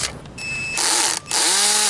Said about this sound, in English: use pocket screws and drill it into the base